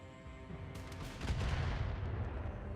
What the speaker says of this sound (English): there are turrets, or there's someone else shooting at me